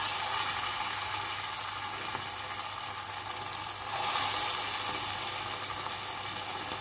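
Small dollops of thick moong dal pakoda batter sizzle steadily in hot oil, a dense continuous frying hiss that stays close and even, with a brief dip and then a livelier crackle partway through.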